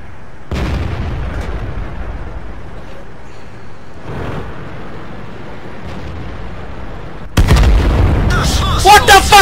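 A tank shell hits in World of Tanks with a heavy boom over steady battle rumble, then a louder burst of impacts and crackling near the end.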